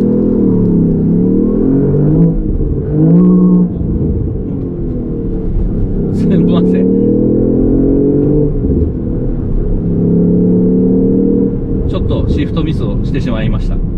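A Lexus LBX Morizo RR accelerates on a circuit with a manual transmission, its engine droning loudly and rising in pitch through gear changes, with people talking over the engine noise throughout.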